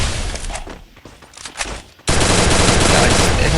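Gunfire in the mobile battle game Free Fire: scattered shots under talk in the first two seconds, then a sudden, loud, sustained automatic burst that fills the rest of the clip.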